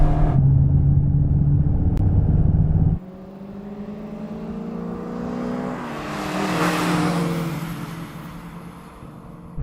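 A Volkswagen Golf GTI Mark 4 accelerates in a drag race, its engine note climbing steadily through a gear change and swelling as it nears, after a loud droning opening section.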